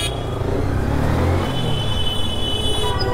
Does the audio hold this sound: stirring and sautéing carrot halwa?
no